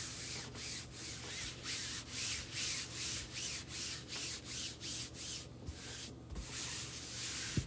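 Rhythmic rubbing strokes press a chalk transfer onto a surface, about a dozen even back-and-forth swipes close up with a dry scratchy texture, alone without talk.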